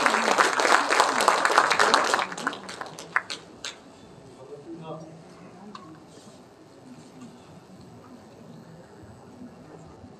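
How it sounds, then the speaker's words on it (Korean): An audience at a book launch event in the Ochang Lake Library claps to welcome a speaker. Dense, loud applause lasts about two seconds, then thins into a few scattered claps and quiet room murmur. "큰 박수로 맞아주시기 바랍니다."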